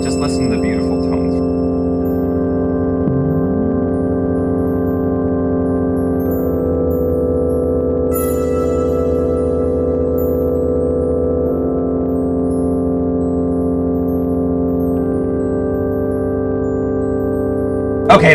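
Sustained electronic music with droning, layered synthetic tones held steadily for a long stretch, with a bright chime-like flourish partway through.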